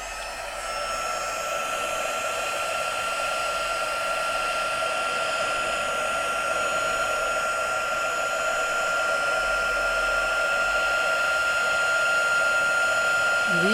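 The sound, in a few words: heat gun for heat embossing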